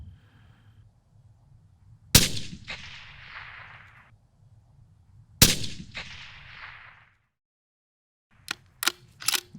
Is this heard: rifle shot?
yes